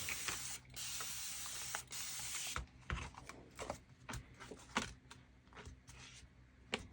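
A spray bottle misting water over vintage-photo ink on a crafting card, a few short hissing spray bursts followed by light clicking and handling noises, close and quiet with no voices.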